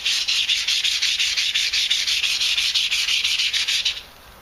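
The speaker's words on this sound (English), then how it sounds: "let's fold my sandpaper over." Folded sandpaper rubs back and forth over knife scales for a Ontario Rat 5, about a dozen quick even strokes, close and loud, then stops.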